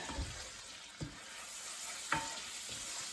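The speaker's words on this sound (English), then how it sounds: "We'll add our herbs. Let's use a wooden spoon," Herbs are stirred into melting butter in a pan with a wooden spoon while making lemon-butter sauce for pan-fried hake, a soft steady sizzle broken by a few faint scrapes and taps, close and quiet.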